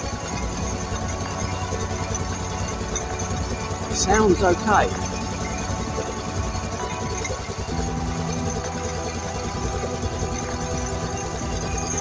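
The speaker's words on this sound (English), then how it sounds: "I've just adjusted the throttle stop screw so that it will tick over." A Yamaha XT500 motorcycle engine idles steadily at a low, even tick-over after a throttle stop screw adjustment, while a person speaks briefly over it.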